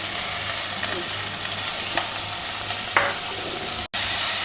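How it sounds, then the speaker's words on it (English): Chopped onion, tomato, capsicum, green chilli, pumpkin and curry leaves are stir-fried in hot oil, with a loud, even sizzle throughout and a few faint spatula scrapes, no speech. "Lightly stir fry all these in the oil."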